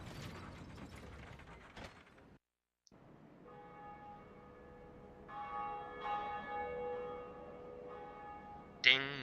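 In Dark Souls, the Blighttown bell is rung: clanking gears and a ratcheting mechanism give way to a tolling church-style bell whose sustained ringing rises and lingers, ending with a sharp clang.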